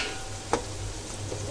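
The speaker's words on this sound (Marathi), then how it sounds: "राई आणि जिरं टाकणार आहेत" Mustard seeds and cumin tossed into hot oil that has been frying onion and chili, giving a steady soft sizzle with a few faint pops and ticks throughout, no voices.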